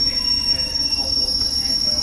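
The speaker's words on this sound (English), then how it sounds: "This is a Hammersmith City Line train to Hammersmith." A London Underground Hammersmith & City line train runs with steady rumble and squealing wheels, a continuous close roar with a high whine throughout and no talk.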